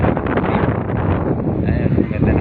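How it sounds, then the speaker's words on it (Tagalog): Strong wind buffeting a microphone on a rooftop in Manila, a loud continuous rumbling roar with gusty swells, no other sounds standing out. "Nandito ko sa taas sa lakas ng hangin."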